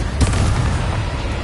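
Confringo blasting spell in the game Hogwarts Legacy, a heavy explosive boom just after the start, then a rumbling, crackling tail that stays loud for the rest of the short moment.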